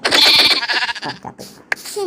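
A goat bleats in a multiplayer server video game, a loud, wavering cry in the opening half-second, followed by quieter game noises and a sharp click near the end.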